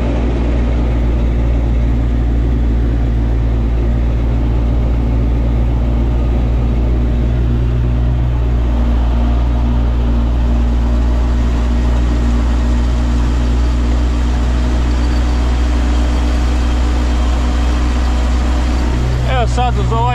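Russian tractor pulling a plough uphill in a field: a loud, steady, low engine drone labouring continuously and close, with a voice talking over it.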